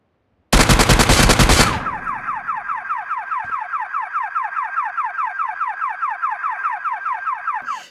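In PUBG Mobile, a burst of rapid gunfire hits a vending machine, which then sets off a loud, repeating pulsing alarm that keeps cycling evenly for several seconds, with no talking.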